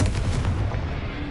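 A Confringo spell cast in the video game Hogwarts Legacy lands as one loud, booming blast that rumbles and fades over about a second, with no voices.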